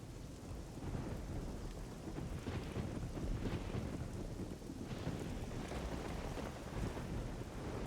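Rain and thunder from the video game Risen 2 make a steady, dense downpour with low rolling thunder swelling through it, continuous and moderately loud with no talking.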